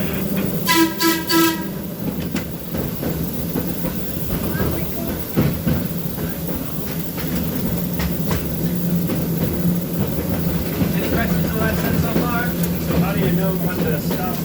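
A heritage train car on a 12-mile railroad rolls along with a constant low rumble and rhythmic wheel clatter, a horn sounding early on, while people talk over the noise.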